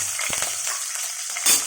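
Garlic and ginger fry in a pan with cardamom, giving a steady, moderate sizzle with a few soft stirring taps and one brief louder crackle near the end, with no voices.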